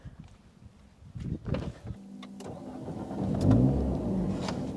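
A petrol Alpine A110 starts up on a drive through the Wicklow Gap: the starter cranks briefly, then the engine catches with a rising flare and settles into a steady, fairly loud idle nearby.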